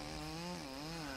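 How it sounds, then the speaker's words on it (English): A Stihl 070 Classic chainsaw cuts through giant logs, its engine holding a loud, steady, slightly wavering whine for a brief continuous stretch. "9010 is a most formidable chainsaw."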